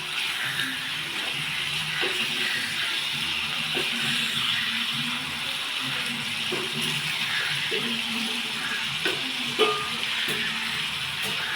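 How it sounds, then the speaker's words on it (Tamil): Shrimp fry in a pan with a soft, continuous sizzle while being stirred, with occasional faint scrapes and clicks from the utensil. "இப்போ நம்ம இறாலை கொஞ்சம் கிண்டி விட்டுக்கிறோம்"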